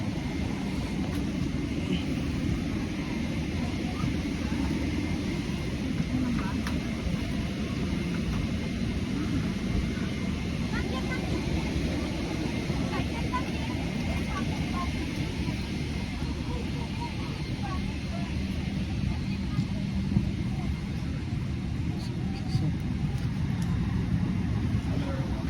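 Steady low cabin drone aboard an airliner in business class, a constant broadband engine and airflow hum at moderate level, with occasional soft voices around.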